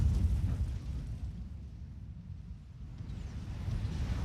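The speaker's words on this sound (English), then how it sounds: "A nice move with the Arty shooting down on this position, managing to take out NGs." Artillery shelling in the real-time strategy game Forged Alliance Forever, heard as a continuous low rumble of distant explosions, heavier at the start and end, with no voices.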